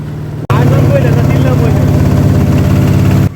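A loud, steady trawler boat engine drones close by on a river after a brief cut, its low chugging hum continuous throughout as it nears a sandbar.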